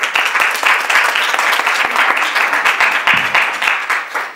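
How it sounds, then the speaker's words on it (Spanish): An audience at a university talk gives welcoming applause to Maestro Basilio Martínez. Loud, close clapping with individual sharp claps standing out continues steadily throughout. "la bienvenida con un aplauso al maestro Basilio Martínez."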